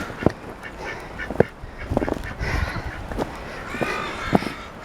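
Ducks out in a snowy farmyard beside a coop give repeated short quacks and calls, some near and some farther off, over a windy outdoor background.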